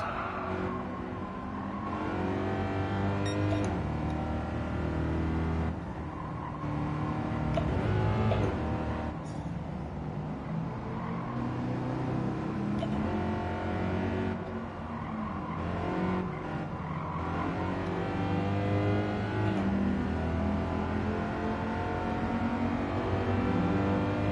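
A car in Gran Turismo 7 driven with a Fanatec DD Pro wheel on PS5, its engine droning and revving steadily through gear changes, with occasional tyre skids, continuous and close with no talk.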